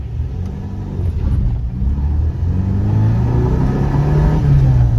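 Car engine revving close by, a loud low rumble that climbs steadily in pitch as the throttle is held open, continuous for several seconds with no talk over it.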